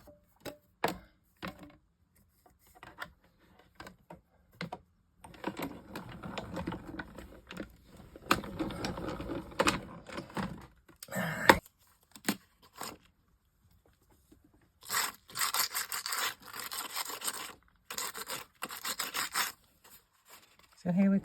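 A greeting card is die cut with metal dies in a crafting setup, giving bursts of grinding, rasping machine noise and scattered clicks and rustles of handling, close and moderately loud.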